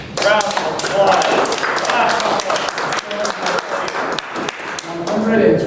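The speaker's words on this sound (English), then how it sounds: "Round of applause." A group applauds after a game round, with dense, fairly loud clapping and some sharp taps running throughout and people talking over it.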